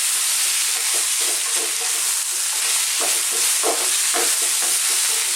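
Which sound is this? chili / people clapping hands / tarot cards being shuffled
chili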